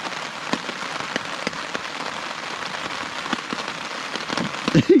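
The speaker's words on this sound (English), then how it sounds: "As the rain picks up." Heavy rain falls steadily on a forest campsite of pine needles along a backpacking trail, a dense close patter with sharp individual drops, and no voices.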